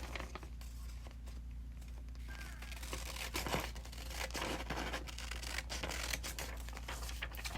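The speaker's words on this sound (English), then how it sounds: "let's cut it out. Why not? We are here, we have the scissors" Scissors snip through a glossy paper magazine page to cut out an image, producing soft crinkling and faint rustling cuts close by, with a low steady hum underneath.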